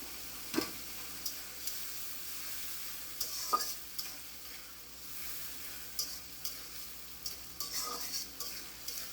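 Raw prawns sizzle steadily in a hot pan of browned masala, with scattered scrapes and clinks of a spoon stirring them at irregular intervals, close and continuous, with nobody speaking.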